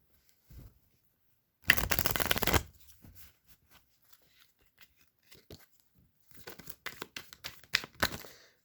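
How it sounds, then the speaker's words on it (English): Tarot cards being shuffled close up in two quick riffling bursts, one short and dense, then a longer run of crisp flicks after a quiet pause. "Shuffle around here."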